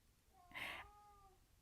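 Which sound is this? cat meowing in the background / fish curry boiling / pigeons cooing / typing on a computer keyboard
cat meowing in the background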